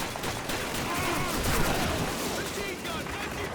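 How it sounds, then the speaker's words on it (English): Dense, continuous machine gun fire from a World War II battle in Call of Duty, loud and close, with overlapping bursts filling the whole stretch and no let-up. "Machine gun, 1942!"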